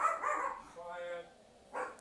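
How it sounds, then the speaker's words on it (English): A pet dog barks a few times in a quiet room, soft and somewhat distant, with a short whining tone between the barks. "That's my dog's barking."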